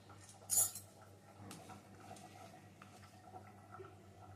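A spoon scrapes and clinks against a cooking pot while ginger paste goes in with mustard oil and red chilli powder over cut jackfruit, a bright metallic tap near the start followed by soft quiet scraping and faint sizzle.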